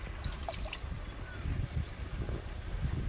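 Chicken feet being washed in water, with low sloshing, gurgling and splashing as they are rubbed and swirled, close and continuous for a few seconds.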